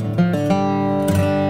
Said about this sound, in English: and a more bluesy G run,